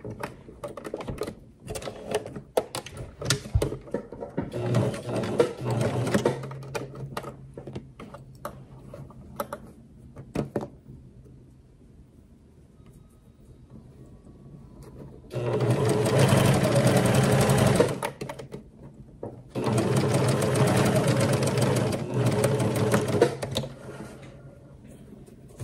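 A sewing machine stitches a bag in three bursts of rapid, steady whirring, separated by quieter handling clicks and rustles nearby.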